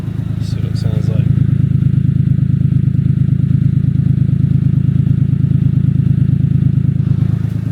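A Honda Acty's small engine idling through an upgraded exhaust, giving a steady, close, low rumbling putter that runs throughout, with a brief faint clink near the start.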